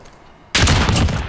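Gunfire in the video game Call of Duty: Modern Warfare erupts suddenly after a quiet moment and becomes a loud, dense, sustained burst of rapid shots that lasts to the end.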